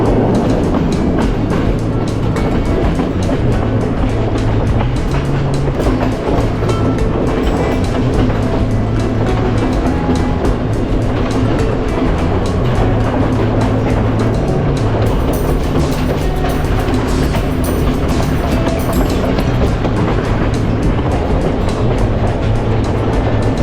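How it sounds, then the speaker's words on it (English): The CALIPSO train runs through Sri Lanka's misty hill country, a loud, steady rumble of wheels and carriages with rhythmic clatter that carries on unbroken throughout, with no voices. "the train gently winds its way through misty hills and quaint villages"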